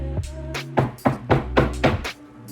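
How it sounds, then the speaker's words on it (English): Knocking on a door, about five firm raps in an uneven rhythm, heard close over a low background hum. "See that knocking on the door."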